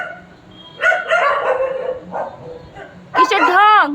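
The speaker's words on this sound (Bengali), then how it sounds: "আর ভালো লোক ঢুকলে ঘেউ ঘেউ করে।" A neighbourhood dog barks and yips in a few short bursts near the microphone, mixed in with someone talking loudly to it.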